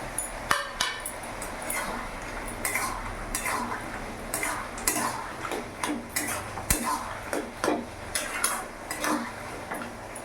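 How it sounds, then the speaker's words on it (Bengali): A spatula presses and stirs bottle gourd curry in a pan, making repeated close scraping and metal taps over a faint sizzle. The strokes come in an uneven, steady rhythm. "একটু খুন্তিতে করে ঠেসে ঠেসে দেবো, যাতে একটু গা মাখো মাখো হয়।"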